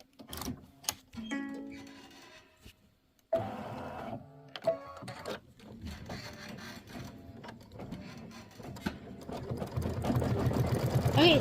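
A Kimberbell embroidery machine stitches a tack-down line for quilt flowers, giving irregular mechanical whirring and clicking bursts that grow into a denser, louder run toward the end, with a voice talking intermittently.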